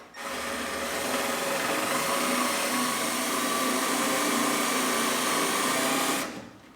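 A power drill bores a pilot hole up into the spare tire tub of a 1989 Buick LeSabre trunk, a steady loud whir running for about six seconds before stopping abruptly.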